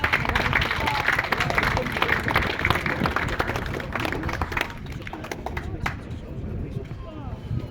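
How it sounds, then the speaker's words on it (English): A crowd at an outdoor peaceful protest in St Helens applauds steadily, dense clapping that holds strong and then thins slightly toward the end. "So can we just give them a round of applause?"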